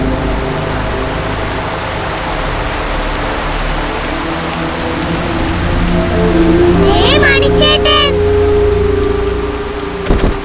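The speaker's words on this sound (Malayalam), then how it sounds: "ഈശ്വരത് എപ്പ പിടിച്ച മഴയാണ് ഇത് നാശം പിടിക്കാനായിട്ട്." Heavy rain pours down in a dense, steady roar that fills the whole scene, with a few brief tonal sounds breaking through near the end.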